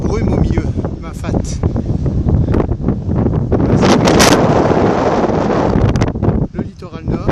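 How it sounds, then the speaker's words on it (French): Strong wind buffets the microphone along the Réunion coastline near Port Est, a constant loud roar with gusts swelling and easing. "Du vent."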